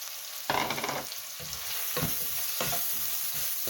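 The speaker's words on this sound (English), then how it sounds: "give it a good mix" Onion and ground coriander, cumin, fennel and black pepper fry in a pot over high heat, sizzling steadily while a utensil scrapes and stirs in several rough strokes, close up.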